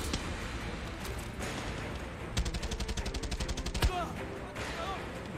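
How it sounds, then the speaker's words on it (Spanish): In the shooter game Far Cry 6, gunfire aimed at the player crackles nearby, with scattered shots giving way to a rapid, evenly spaced automatic burst and a heavier blast, and a voice speaking over parts of it. "Carajo, me está disparando."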